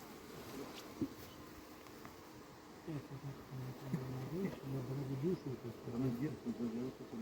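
Honey bees buzz around an open hive as a queen cage plugged with candy is set on top of a nucleus colony; a fairly faint, wavering drone begins after a quiet start and builds steadily.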